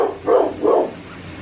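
A dog gives two quick, close, loud barks in succession, then falls quiet.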